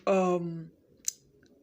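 A single sharp mouse click sounds once, faint and close, just after a brief spoken voice fades, in an otherwise quiet room.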